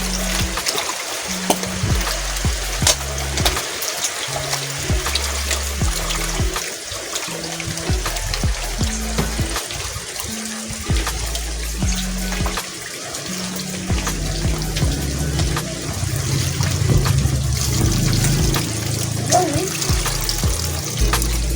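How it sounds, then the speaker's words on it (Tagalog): Running tap water pours over sliced pork as it is washed in a sink, a continuous close splashing stream with bursts of sloshing while the meat is worked by hand. "Ngayon guys, hugasan na natin ng maigi."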